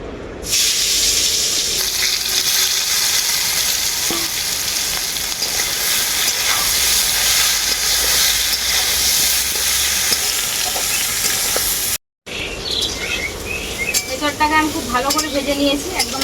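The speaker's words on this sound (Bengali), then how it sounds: "ওই তেলের মধ্যে আমি হেঁচড়টাও ভেজে নেব" Young jackfruit frying in oil in a karahi, after potatoes were fried in the same oil, for a chicken and jackfruit curry: a steady loud sizzle runs throughout, broken by a brief silence near the end, with some stirring and voice-like sounds after.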